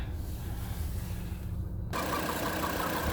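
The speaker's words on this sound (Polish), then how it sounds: "Tak pracuje motor." A Volvo S80 2.5 turbo five-cylinder petrol engine idles with a steady low rumble and even hum, close and continuous, growing slightly fuller partway through.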